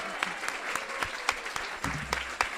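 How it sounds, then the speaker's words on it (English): A small group claps steadily for a few seconds for waiting staff at an awards celebration, a soft, somewhat distant round of applause. "Let's give an applause to our waiters and our serve staff."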